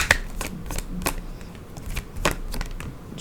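Tarot cards shuffled from a deck in quick riffling bursts, close and fairly soft, with a few sharper card flicks spaced across a quiet room.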